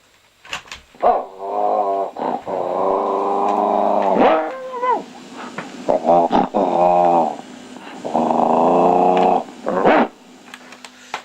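A dog heard over a live news broadcast link makes drawn-out, tonal growling and whining sounds in several long bursts, close and fairly loud, with short gaps and clicks between them.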